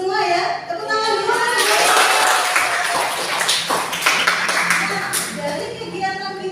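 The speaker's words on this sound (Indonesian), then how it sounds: "Tepuk tangan dulu" A classroom of children clapping their hands together after a presentation, a dense burst of claps that swells and then fades, with children's voices heard at the start and end.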